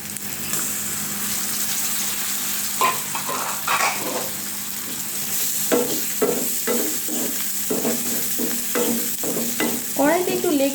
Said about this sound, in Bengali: এখন আমি এর মধ্যে ডিমটা ছেড়ে দিব।